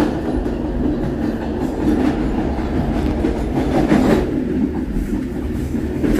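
A train runs along a scenic railway line through rocky cuttings toward Cibatu, heard from the last economy car: a loud, steady rumble with rhythmic wheel clatter on the track throughout, no voices.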